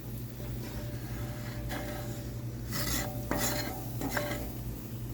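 Scraping and stirring of roast drippings loosened across the bottom of a skillet on a camper stove, with soft intermittent scrapes and faint clinks over a steady background hum.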